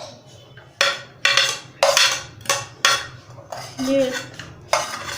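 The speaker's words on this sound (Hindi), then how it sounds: "अब मैं सारी चीज़ों को एक ही बाउल के अंदर या फिर एक प्लेट के अंदर मिक्स कर लूँगी" Chopped onions, tomatoes and coriander being mixed in a bowl or plate for a homemade kids' lunch, with a series of sharp clinks and scrapes of a spoon against the dish, fairly close and loud, in irregular bursts.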